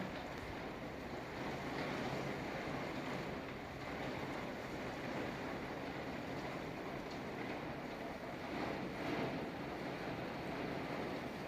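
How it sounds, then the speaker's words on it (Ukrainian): Steady, loud roaring storm wind in a garden buffets the microphone without a break, a dense rushing noise like surf. "Такий вітер,"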